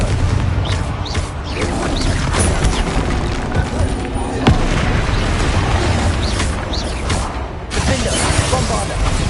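Loud, dense fiery blasts of the Confringo spell in Hogwarts Legacy, booming and crackling over continuous battle noise and music, with sharp bursts recurring through the fight and a brief voice beneath.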